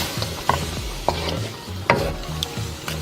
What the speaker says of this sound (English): It's like it's frying, searing it up. That's what a wok does,